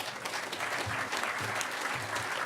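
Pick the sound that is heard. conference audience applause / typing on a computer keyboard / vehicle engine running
conference audience applause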